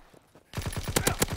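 Grease gun submachine gun fire in an Xbox shooter game, a quick burst of roughly eight sharp, evenly spaced shots after a brief quiet lead-in, loud and close.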